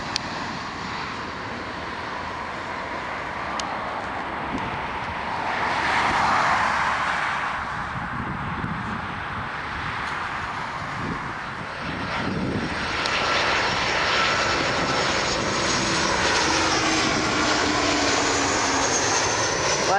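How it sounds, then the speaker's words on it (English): WestJet Boeing 737-600 engines roar steadily at an airport, a broad continuous rumble that swells midway and again toward the end as the airliner passes, loud and close with no talk. "WestJet 737-600."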